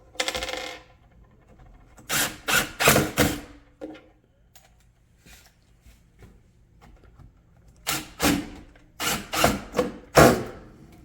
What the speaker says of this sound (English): you can tighten up the screws a little bit more